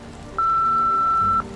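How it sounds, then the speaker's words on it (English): A single steady electronic voicemail beep from an answering machine in the Nancy Drew game Midnight in Salem, one clear sustained tone lasting about a second over a quiet background hum. "please leave a message after the beep"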